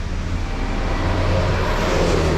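Loud, steady low rumble of a city bus engine running in traffic on the route from Pasar Seni to Shah Alam, a continuous drone with road noise around it.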